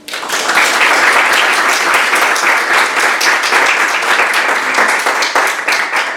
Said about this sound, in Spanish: les pido por favor que le demos un cariñoso aplauso a Julio Rojas